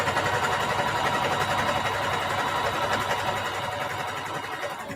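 A sewing machine stitches a seam on a fabric handbag at a 2.5 millimeter stitch length, giving a continuous fast mechanical whir and rattle that runs steadily, close and alone throughout.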